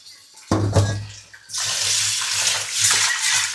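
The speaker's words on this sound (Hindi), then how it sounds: "चावल धो लेता हूँ जब तक।" Rice being washed under a running tap in a kitchen, water splashing loudly with an abrupt start and a steady rushing stream, a brief lull, then continuous hiss of flowing water.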